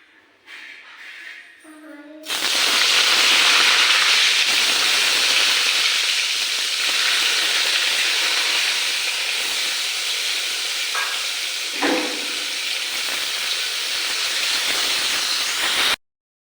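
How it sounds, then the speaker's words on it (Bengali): Eggplant slices hitting hot oil in a wok burst into a loud, hissing sizzle after a quiet start. The sizzle holds steady for many seconds, with a faint clink near the end. "এবার আমি এই বেগুনগুলোকে ভেজে নেব।"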